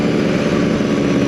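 A twenty-year-old Vespa PX125 two-stroke scooter on the move, its 125 cc engine giving a steady, buzzy drone, close and loud, with no speech.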